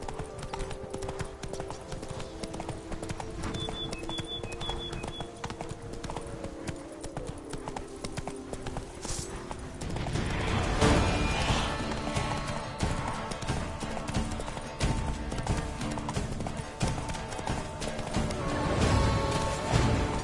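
Hooves of Roach, a horse in The Witcher video game, clip-clop at a steady walking rhythm, quieter at first and then louder and busier with added game ambience.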